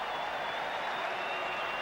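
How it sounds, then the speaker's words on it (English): A large stadium crowd at a 1990/91 New Zealand v Sri Lanka one-day international in Auckland roars steadily after a boundary, a dense continuous wash of cheering and applause heard from a distance. "the crowd cheers as Andrew Jones hits his first boundary"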